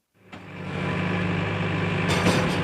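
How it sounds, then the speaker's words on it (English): A tractor engine on a farm starts up and settles into a steady, rumbling idle with a low throbbing tone, close by and continuous, with no voices. "the tractors were hard at it cleaning out the cattle sheds"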